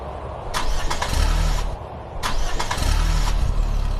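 A car engine being started, with two bursts of cranking and engine roar separated by a brief pause, loud and close, with no talking.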